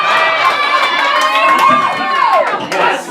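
A crowd at a New York cosplay cabaret cheers and whoops loudly and steadily, with shouts rising over a continuous roar of applause.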